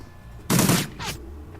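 Burst-shot gunfire in the turn-based video game Shadowrun Returns, a short loud rattling volley followed by a fainter second burst, clean and close with no talk.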